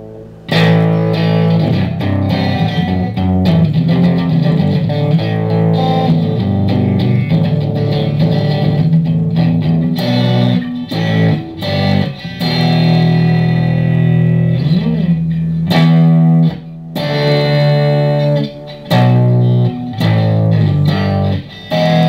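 Electric guitar played through a Marshall Code 50 modelling amp on a Blues Breaker setting with light reverb or delay, loud and continuous with sustained chords and phrases broken by brief pauses.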